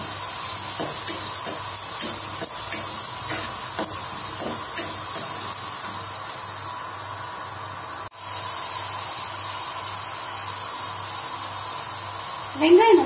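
Onions and spices sautéing in a pan for Kerala kadala curry make a steady, close hiss that runs through the whole stretch, with faint clicks and a brief louder burst at the end.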